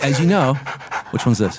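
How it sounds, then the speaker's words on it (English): A dog's rhythmic panting, played as a sound effect in a Los Angeles podcast studio, comes through in quick breathy bursts with voices talking over it. "That's a dog panting."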